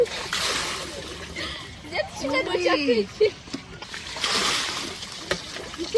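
Water splashing and sloshing as clothes are washed by hand outdoors on Anjouan, intermittent splashes at moderate distance with brief talk over them.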